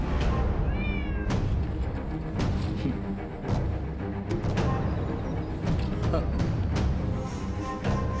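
Cats meow repeatedly in the video game Rise of the Ronin, clear and close, alongside sharp clicks and game sound effects, with a voice talking over it.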